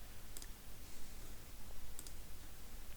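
Mouse clicks on an import button while setting up a WordPress theme, with two or three crisp, faint clicks over a quiet room hum.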